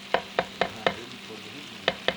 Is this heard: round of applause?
no